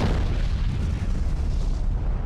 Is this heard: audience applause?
no